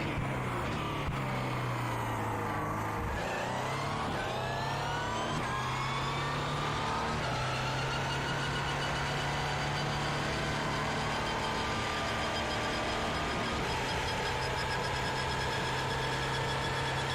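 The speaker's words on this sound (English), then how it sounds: "That wonderful diesel sound, and so much torque out of that motor." Onboard a diesel LMP1 race car in the iRacing sim, the engine drones loud and steady, with rising and falling pitch through gear changes and one deep dip and climb near the start, no voices.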